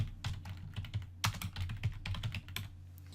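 Quick bursts of typing on a computer keyboard while entering a label into an Excel spreadsheet, close and fairly quiet, with irregular clusters of key clicks and short pauses between them.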